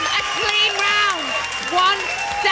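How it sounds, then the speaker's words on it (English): A crowd cheers and applauds at the Wind Games 2017 4Speed semi-finals, a broad, continuous roar of clapping with a loud commentator talking over it throughout. "the crowd are going crazy for them"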